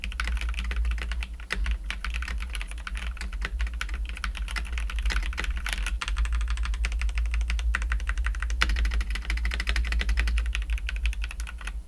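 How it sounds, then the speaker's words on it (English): Steady, brisk typing on a Corsair K70 Core mechanical keyboard with lubricated switches and sound-dampening foam: close, continuous, muted keystrokes with no pauses and no voices. "Let's do a quick typing test on the Corsair K70 core keyboard."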